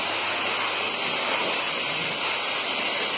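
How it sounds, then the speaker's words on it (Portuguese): During equipment maintenance, a water jet sprays with a steady, loud, even rushing hiss that runs unbroken throughout, much like a waterfall, with no voices over it. "passar o jato de água."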